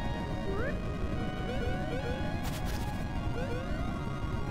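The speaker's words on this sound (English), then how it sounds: "Oh, we are smashing. Just zooming on this conch shell car." Crashing and smashing in the Mickey Mouse and Donald Duck game World of Illusion as a conch-shell car speeds along, a steady rush of game audio with rising chirpy effects and a bright burst midway.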